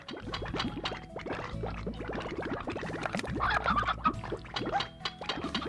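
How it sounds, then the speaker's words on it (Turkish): Chickens cluck in a rapid, busy stream of short calls in the video game Slime Rancher, heard close and fairly quiet with no talking. "Aa şey geldi tavuk geldi."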